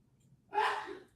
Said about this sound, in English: Your brother sneezes so loud.